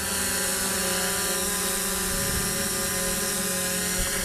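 A Fimi X8 SE drone from 2020 hovers close by on its first flight, its propellers giving a loud, continuous high-pitched buzzing whine that holds steady throughout.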